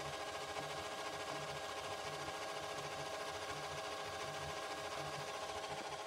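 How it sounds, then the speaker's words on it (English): An Epson EcoTank ET-4750 printer charging its ink makes a faint, steady mechanical whir with a rapid regular chattering pulse, continuous throughout at low level. "I have to charge the ink now."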